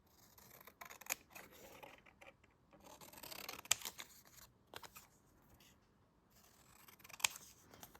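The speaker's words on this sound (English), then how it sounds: "And now I just cut as close to the edge as I would like the book to be." Scissors cutting cardstock for tiny paperback books, with crisp snipping strokes in irregular bursts close to the mic and brief pauses between cuts, no talking.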